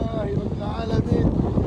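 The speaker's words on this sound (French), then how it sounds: "il y a du vent de fou" Strong wind buffeting the microphone outdoors on a hillside in the Middle East, a loud continuous rushing roar with a voice briefly audible underneath.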